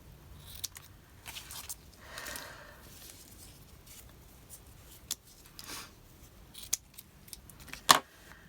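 Scissors snip paper while an envelope folder is being crafted, with a few short, quiet cuts and rustles scattered over a hushed room and one sharper snip near the end; no one speaks.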